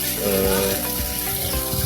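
River sand taken from Kampung Bile-Bile is washed in water to clean it for use as bonsai growing medium. Loud, continuous gushing and splashing runs throughout, with a faint voice mixed in.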